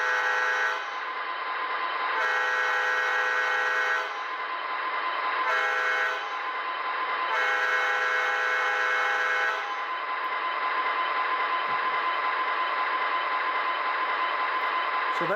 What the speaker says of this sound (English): And then you're gonna have the horn sound.